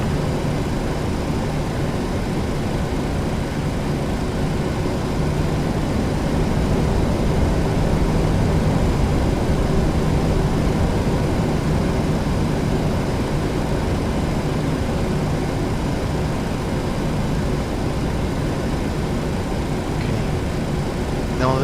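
Airliner engines heard from the cockpit during a takeoff from Luqa, Malta, a steady, loud broadband roar that holds evenly throughout without pause.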